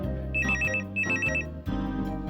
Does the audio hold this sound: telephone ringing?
yes